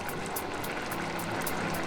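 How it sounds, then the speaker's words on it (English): A pot of vegetable soup with leeks, swede and carrots boils on the stove, giving a close, steady, continuous bubbling with no voices. "Boil the soup for a few minutes."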